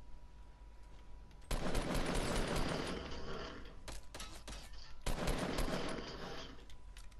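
Bursts of rapid assault rifle fire in Fortnite, two long loud volleys with scattered shorter shots between them, close and harsh.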